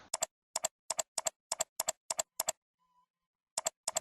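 A computer keyboard's keys are pressed in a run of about nine double clicks at an even rhythm, then a short pause, then two more. The clicks are crisp and close, with no talking.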